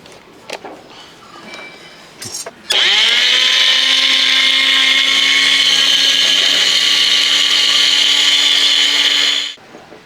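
An electric blender whirs loudly and steadily for several seconds as it blends a watermelon milkshake with cardamom, starting up abruptly after a few small knocks and cutting off near the end.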